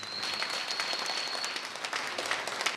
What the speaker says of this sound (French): Merci et applaudissez-vous une fois encore et que la fête soit belle.